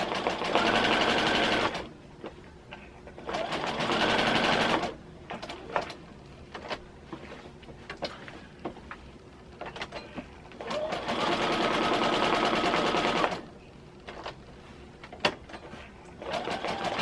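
A sewing machine stitches a quilt in three steady runs of a few seconds each, a loud rapid whirring hum, separated by quieter pauses filled with clicks and handling of fabric.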